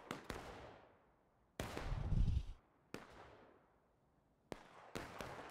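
Rifle shots ring out in a War of Rights battle, with five or six sharp cracks spaced a second or so apart, each trailing a long echoing decay and one followed by a low rumbling boom.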